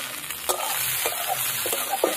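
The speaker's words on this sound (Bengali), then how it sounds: "এগুলো আর একটু ভালো করে ভেজে নিতে হবে" Onion, ginger, garlic and chopped tomato frying in a pan, a steady close sizzle with spoon scrapes and stirs knocking every half second or so.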